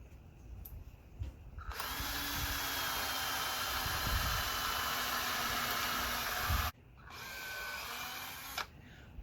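A power drill whirs loudly and steadily for about five seconds as it bores a guide hole in a wooden whiskey barrel planter, then stops, with a brief quieter drill burst after.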